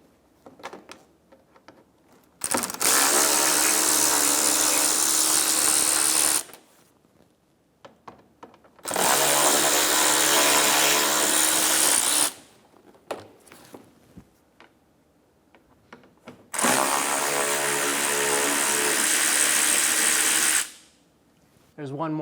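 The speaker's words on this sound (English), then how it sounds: "Remove the 3 T20 screws in the inner fender liner." A power tool drives out T20 screws from the inner front fender liner of a 2012-2020 Chevrolet Sonic, with three loud sustained whirring bursts separated by quiet gaps and small clicks.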